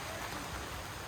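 Steady rain falling over farm fields during rice planting, a dense, even hiss of drops with no pauses and no voices.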